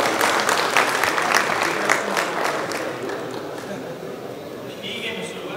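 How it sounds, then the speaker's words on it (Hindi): An audience claps for the first look at the new Inverex Veyron inverter design, a dense burst of many hands that thins out over several seconds, with a faint tone near the end. "आप लोग मुझे अपनी तालियों से बताएंगे कि इस इन्वर्टर के डिजाइन आपको"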